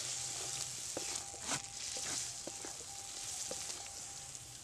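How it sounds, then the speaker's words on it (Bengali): Spice paste of tomato, chili, ginger and cumin sizzles steadily in hot oil while being fried for a potato curry, with a continuous crackling hiss and a few sharp spatters and stirring clicks, close and alone with no talk. "এবার মশলাটা আমার একটু ভালো করে কষাতে হবে"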